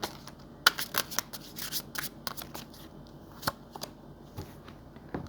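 Tarot cards being shuffled and drawn by hand, a run of crisp riffling flutters and soft slaps with brief pauses between, close and fairly quiet, no voices.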